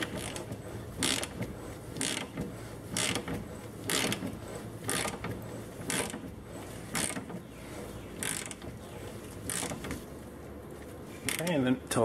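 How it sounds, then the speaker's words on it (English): A ball joint press is tightened by hand to seat a new ball joint in the steering knuckle of a Jeep Grand Cherokee WJ, giving repeated ratcheting clicks and mechanical creaks in bursts, up close, over a steady background hum. "And then we can go ahead and press our ball joint in."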